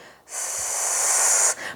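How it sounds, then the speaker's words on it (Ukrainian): A long, steady hissing exhale pushed through the teeth as part of a diaphragm breathing exercise, sustained for over a second at even strength, then a brief softer breath trailing off at the end. "Зробіть довгий видих через зуби, наче ви видихаєте через соломинку"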